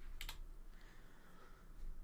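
A computer keyboard is typed on in a short burst of a few quick clicks near the start, then a quieter stretch over low room noise with no voices.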